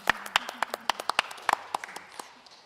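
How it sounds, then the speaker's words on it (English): Scattered clapping from participants in a virtual public works meeting: a couple dozen sharp, uneven claps at close range, sparse and thinning toward the end, with no voices over them. "To see us clapping and to hear the noise is nice"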